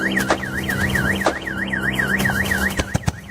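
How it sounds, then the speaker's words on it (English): A luxury car's alarm wails in a steady, looping rise-and-fall warble, loud and close, with a few sharp clicks and thumps near the end. "first the car alarm goes off"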